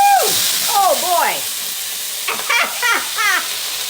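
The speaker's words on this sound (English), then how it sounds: "So it's gonna sizzle a bit." Tempeh in a hot frying pan bursts into a loud sizzle as water is added, with steamy hissing and spattering that rises and falls in several short surges.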